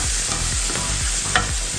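Mushrooms fry in a pan with salt, giving a steady close sizzle under a few rhythmic scraping strokes as they are stirred.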